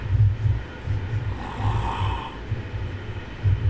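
A sleeping warrior character in Dark Souls 3 snores in slow, low rumbling breaths against a steady ambient bed, with one drawn-out exhale in the middle.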